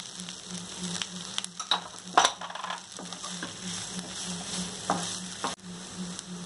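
Vegetable vada mixture is stirred in a hot pan, with a continuous frying sizzle under repeated scraping strokes and a few sharp taps of the spoon.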